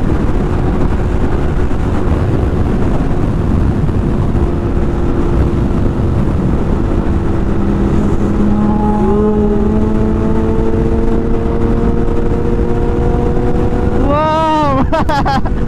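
A Yamaha MT-10 motorcycle rides at high speed, up to about 237 km/h, a constant loud wind-buffeted engine roar with rising and falling engine tones, and revving sweeps near the end; a voice speaks over it.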